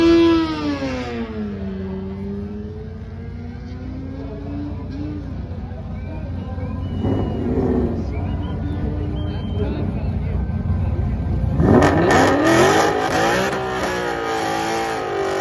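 A Whipple-supercharged 2013 Ford Boss 302 Mustang at a drag strip. Its engine pitch sweeps down and back up, then it roars loudly into a hard launch near the end, with crowd noise and babble in the background.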